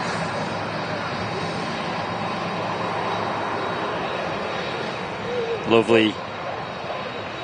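A steady, broad jet roar of aircraft at Manchester Airport fills the whole stretch, with a brief spoken word breaking in near the end.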